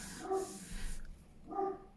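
A dog barks twice indoors, with short, fairly close woofs about a second apart over a soft background hiss.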